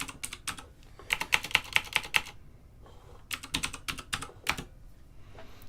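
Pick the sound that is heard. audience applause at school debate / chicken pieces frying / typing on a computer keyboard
typing on a computer keyboard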